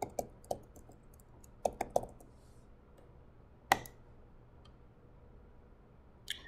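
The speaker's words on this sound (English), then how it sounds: "You enter the ID and password." Someone types an ID and password on a computer keyboard: sparse, close key taps in small irregular bursts with pauses between, quiet and alone.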